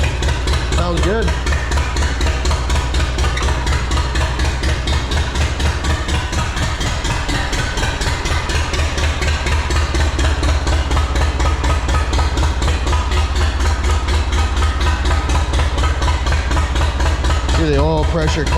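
A Farmall Super C tractor engine sits at idle, a loud steady rhythmic low chugging that runs unbroken throughout, close by, with someone speaking briefly over it.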